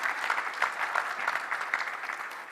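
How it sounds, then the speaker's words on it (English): An audience at a business forum panel applauds the panelists, steady dense clapping from a hall crowd, moderately loud and unbroken for a couple of seconds before beginning to fade. "May I please request a big round of applause for our panelists here"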